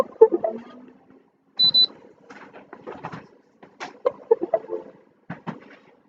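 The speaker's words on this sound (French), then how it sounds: "Vous allumez les imprimantes." Two printers switching on and starting up: a brief high beep, then scattered mechanical clicks, whirs and clunks of the mechanisms initialising, close and moderately loud with quiet gaps between.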